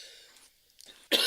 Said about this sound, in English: I'm sorry, I got coughing and I haven't caught my breath.